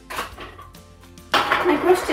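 Thermomix mixing bowl being unscrewed and its blade pushed out to release stiff gluten-free dough, heard as close, loud metal clinks and scraping clatter that burst in after a quieter stretch of faint handling noise.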